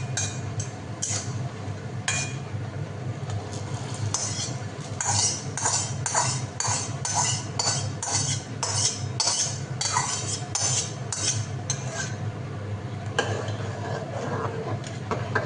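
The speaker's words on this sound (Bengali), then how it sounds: "এরকম সময় এখানে নারকেল যে ভাজাটা করেছি সেটা দিয়ে দেবো" Fried coconut is added to a pot of rice and lentils coming to a boil, then stirred with a metal spoon, giving repeated clinks and scrapes over a steady bubbling simmer, close and fairly loud throughout.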